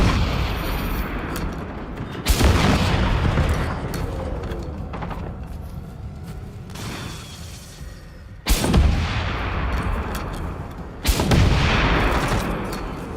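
Heavy gunfire booms in the video game Generation Zero: three loud, sharp blasts, each with a long rumbling decay, over a steady, dense background roar.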